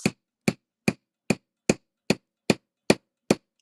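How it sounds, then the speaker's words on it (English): A small hammer gently taps metal jewellery wire to flare its end, nine light, evenly spaced strikes with a short ring after each, close up and alone. "I'm gently tapping this to flare it"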